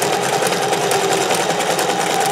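Vintage sewing machine stitching scallops, a loud, steady mechanical whir with rapid even needle clatter running continuously and up close, with no talking.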